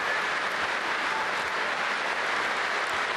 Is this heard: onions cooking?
no